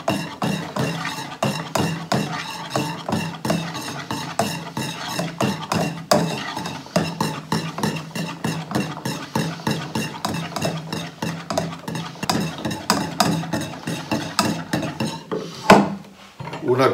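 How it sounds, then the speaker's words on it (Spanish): Close, rapid whisking of a sugar and cornstarch mixture for coconut flan, the whisk ticking rhythmically against the bowl in an unbroken run of strokes. "le incorporamos la fécula de maíz, o maicena, como viene su nombre comercial, y batimos también para que no se formen grumos"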